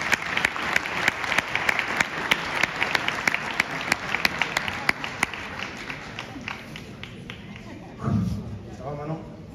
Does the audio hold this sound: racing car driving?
no